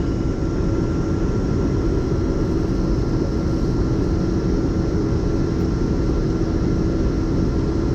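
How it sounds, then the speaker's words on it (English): A camera drone flies overhead, its steady propeller whine and broadband rotor noise holding loud and unbroken throughout, with no voices. "Let me move the drone over here on this side."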